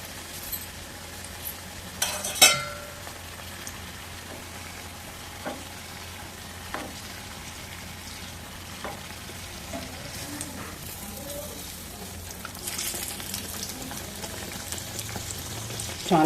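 Ajwain leaf bajji frying in hot oil in a home kitchen, a steady close bubbling sizzle throughout, with a few faint clinks and a louder clatter early on and the sizzle swelling near the end, no talking.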